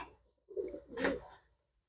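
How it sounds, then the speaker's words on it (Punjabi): Pigeons coo softly in a loft, two brief, low throaty calls close by against a quiet background. "ਲੋ ਬਈ ਇਹ ਲਾਲ ਡੱਬੇ ਕਬੂਤਰੀ ਆ ਗਏ"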